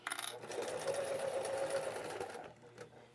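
A sewing machine runs steadily for about two and a half seconds while stitching an oven dress towel, a close, continuous mechanical whir that then stops, leaving faint handling noise.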